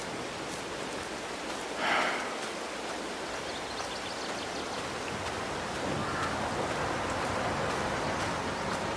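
Rain falls steadily in a Farming Simulator 22 farm scene, a soft, even hiss of drops that stays fairly quiet, with a brief brighter swell of splashing early on and no talking.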